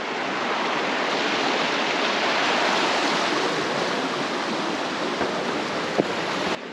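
A creek in Henry W. Coe State Park runs with a steady, full rush of water, close and unbroken, with no voices over it.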